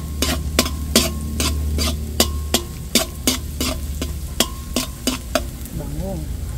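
Garlic frying in oil in a pan for chicken curry, a steady sizzle under rapid, repeated metallic scrapes and taps of a spoon stirring against the pan.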